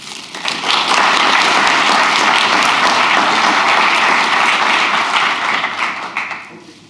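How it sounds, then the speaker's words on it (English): Warm, sustained applause from a conference audience at a university medical technology day, loud, dense clapping that holds steady for several seconds before fading toward the end. "I would like an extra warm applause for Gerard to be here out of the blue"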